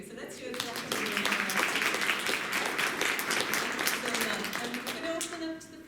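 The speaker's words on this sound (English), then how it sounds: "I'm conscious we haven't done the round of applause for any of our speakers, so let's do it" Applause from a conference audience for a panel of speakers, a moderate spread of clapping that starts after a moment and carries on steadily, with some voices mixed in beneath it.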